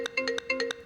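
An incoming-call ringtone on a phone, a bright electronic pattern of short tonal bursts repeating in quick rhythm, clear and close with no talk.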